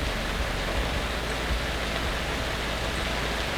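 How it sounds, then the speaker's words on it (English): Steady rain falls in a constant, even hiss, soft and unbroken throughout with no voices. "Oh, it's gonna start raining harder."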